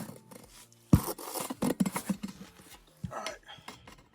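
Metal parts knock and clank in short irregular bursts as an engine flywheel is turned by hand on a step van with a bad flexplate, loud and close with scraping in between.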